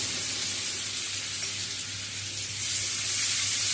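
Nigella seeds, asafoetida and grated ginger tempering in hot oil, giving a steady close hiss of sizzle that swells slightly toward the end, with no talking.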